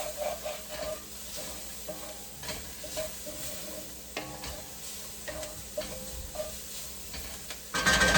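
Chicken stir-fry sizzling quietly in a pan, with a spatula scraping and stirring in repeated strokes over a steady frying hiss, then a louder burst near the end.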